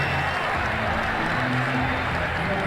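Stadium crowd applauding a cracking shot in Ashes Cricket 2009, a dense continuous clapping wash held at an even volume throughout, with no voices on top.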